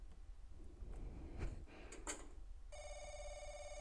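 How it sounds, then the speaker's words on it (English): Telephone ringing in the video game The Crooked Man, a quiet electronic ring that comes in after faint clunks and mechanical knocks, steady and fairly soft. "Phone call for Mr. David."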